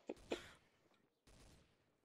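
Two quick gunshots crack faintly in a video game, followed after a pause by a softer burst of distant shooting.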